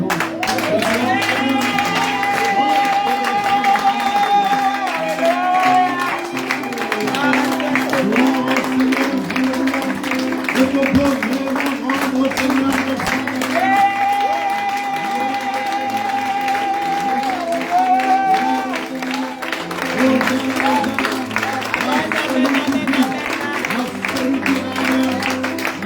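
A congregation in church applauds and cheers during worship, a continuous crowd roar with clapping mixed under music and singing voices, loud and sustained throughout.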